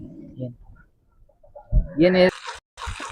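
Native country chickens on a farm give short clucks and calls, close by, with a person speaking briefly around them.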